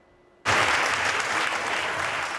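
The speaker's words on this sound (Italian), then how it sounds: "Tanti applausi a Venezia per Anime Nere di Francesco Munsi" Loud, dense applause bursts out abruptly from near silence at the Venice film festival, greeting Anime Nere by Francesco Munsi, the first Italian film in competition, and holds steady to the end.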